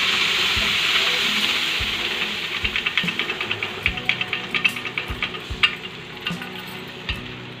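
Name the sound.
pressure-cooked dal added to frying pan, stirring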